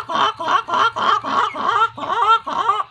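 A voice imitates an adakkozhi hen calling, a series of about eight rhythmic, nasal clucking bursts, close and loud.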